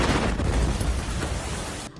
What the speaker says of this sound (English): this massive blast rocked a city in Ukraine. This man was shooting a selfie video when the missile struck